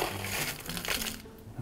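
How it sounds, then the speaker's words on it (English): Crushed ice filling a cocktail glass, a close, continuous icy crunching and clattering of small pieces lasting under two seconds. "fill it with crushed ice"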